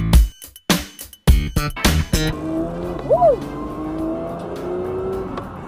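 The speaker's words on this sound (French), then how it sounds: "Victoria Méo qui va faire 3 tours en GT3" A GT3 race car on a circuit, with loud bursts of engine revving and gear-change cuts up close, then a quieter stretch of steady engine drone and a brief rising-falling whine.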